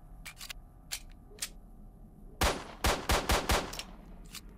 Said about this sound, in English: Let's try out the pistol.